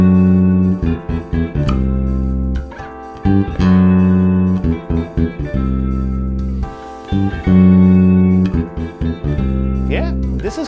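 A bass guitar doubles a guitar riff note for note in choppy, rhythmic bursts of short repeated notes broken by brief gaps, played alone and loud.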